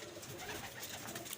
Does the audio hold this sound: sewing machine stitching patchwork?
no